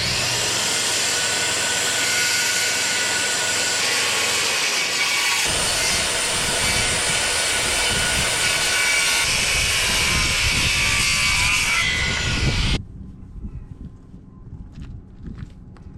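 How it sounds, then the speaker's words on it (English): A power saw cuts a slot and trims excess from a SIPs wall panel outdoors during house construction, a loud continuous broadband whine that runs steadily for about twelve seconds, then stops abruptly, leaving quiet wind. "I've got to go ahead and cut this slot for it to sit in, as well as cut off this excess"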